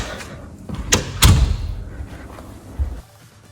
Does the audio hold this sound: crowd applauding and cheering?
no